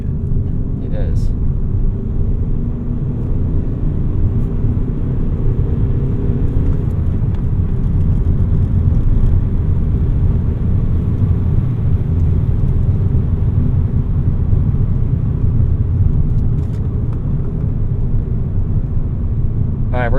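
Steady, loud road drone of a manual VW MK6 Golf TDI driving on a winding road: continuous engine and tire rumble with a low whir throughout, under occasional talk.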